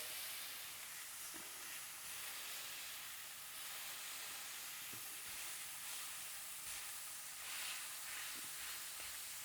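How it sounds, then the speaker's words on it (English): Burger patty sears on a hot griddle with a steady, bright sizzle and hiss, a few faint scrapes or taps breaking through, continuous and close with no talking. "So let it sear one side."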